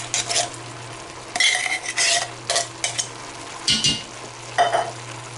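Spoon stirring tomato paste and canned tomatoes with green chilies into a pot of keto chili, with repeated scraping and clinking strokes against the pot over a faint low hum, no talking.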